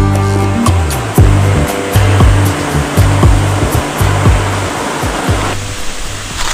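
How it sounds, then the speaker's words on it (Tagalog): Falls at Coto Mines in Masinloc, Zambales, pour with a steady, loud rushing roar that fills the whole scene, broken by a few low thumps and bumps close to the microphone. "Isa lang tong falls na to sa mapupuntahan nyo dito sa Coto Mines."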